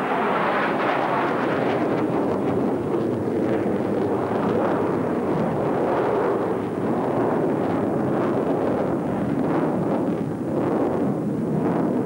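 MiG-29 jets from an aerobatic display team fly overhead with a loud, continuous roar and rumble of jet engines, steady throughout with wind buffeting and no speech.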